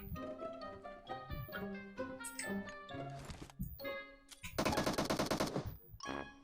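Rapid bursts of gunfire crackle through a PUBG Mobile game soundscape, with a dense, loud volley near the end and scattered shots before it.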